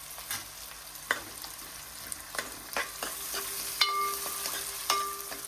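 Onion and a little green chili frying in oil for Maggi, a soft continuous sizzle close by, punctuated by occasional spoon taps and scrapes against the pan.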